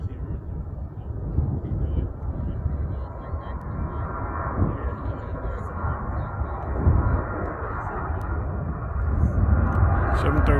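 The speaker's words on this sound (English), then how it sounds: "Got a United 737 on takeoff roll on 15 left." A United Boeing 737 jet on its takeoff roll at an airport at sunset, a steady broad roar of engine and rumble holding at moderate distance, swelling slightly toward the end with wind buffeting the microphone.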